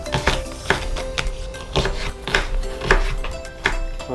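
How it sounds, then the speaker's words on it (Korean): A knife cuts long strips of green onion on a board, giving a regular series of sharp chopping knocks, close and clear, with no voices. "대파를 면이랑 먹을 거라서 길쭉길쭉하게 한번 썰어 볼게요"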